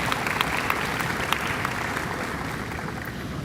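Audience clapping at a college allied health pinning ceremony, a steady, even roar of many hands from a large crowd filling the hall, with no talk over it.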